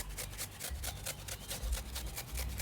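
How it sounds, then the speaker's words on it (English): A peeled carrot being grated by hand for a local-style potato salad, a steady run of close, dry rasping strokes repeating in quick rhythm with no talk. "I already peeled this carrot. I'm gonna grate some in here."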